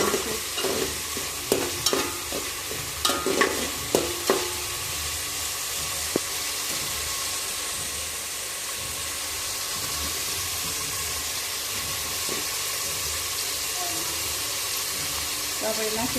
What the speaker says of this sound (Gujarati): તો થોડી વાર આપણે ડુંગળીને સળવા દઈશું, પછી ટમેટા નાખીએ